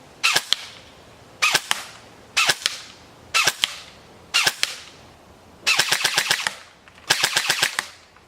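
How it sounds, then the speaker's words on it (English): Full metal DPMS Panther Arms M4 CQB-3 airsoft AEG firing at a target: five short semi-auto bursts of sharp, close mechanical clacks, then two longer rapid full-auto strings, loud with no talk. "Now we're going to go ahead and switch over to a bullseye target and test out the grouping on this."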